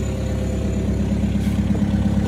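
A Volkswagen Mk2 GTDI car engine runs nearby with a loud, steady low throb and even vibration, heard alone and without any change in revs.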